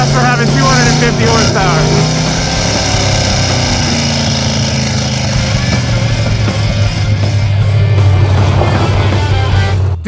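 A front-mounted V8 hot rod with about 250 horsepower roars continuously at full throttle, loud and close throughout, with engine pitch rising and falling as it accelerates hard, and voices speaking over it at times.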